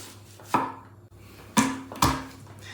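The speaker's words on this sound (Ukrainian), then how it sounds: "тепер нарізаємо цибулю. Також кубиком." Three sharp knife chops on a cutting board as an onion is diced into cubes, with uneven pauses between strokes and no talking.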